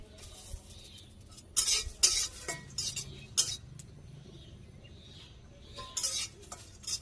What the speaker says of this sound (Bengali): যে মরিচ আর রসুন ভাজা হয়ে গেছে,